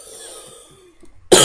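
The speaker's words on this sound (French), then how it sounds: "excusez-moi si je tousse pendant le tutoriel plusieurs fois" A single sharp cough bursts out suddenly after a near-silent pause.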